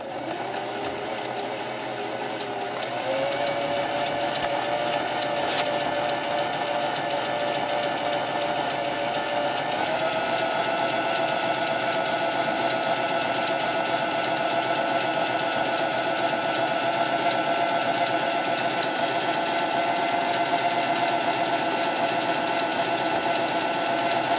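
A Singer Facilita Pro sewing machine stitches an overlock-type stitch continuously, a rapid mechanical whirring and rattling that speeds up slightly early on and then holds steady.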